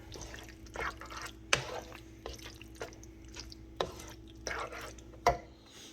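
Spoon stirring food in a pot, producing soft, scattered taps and scrapes with faint liquid clinks at an uneven pace, close and quiet.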